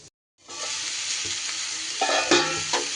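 Diced potato and pointed gourd fry in hot oil in a pan, a sudden close crackling sizzle after a brief silence, with a few spatula scrapes toward the end and no talk.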